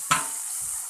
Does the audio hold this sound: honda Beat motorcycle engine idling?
no